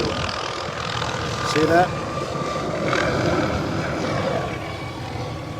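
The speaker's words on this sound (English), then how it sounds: "So that's a fire helicopter." A low-flying fire helicopter passes over a Hawaii oceanfront, its engine and rotor noise a steady, fairly loud wash that swells briefly, while someone talks over it.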